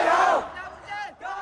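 A massive protest crowd in Hong Kong shouts in unison, a loud roaring chant that swells, fades briefly and rises again in rhythmic waves.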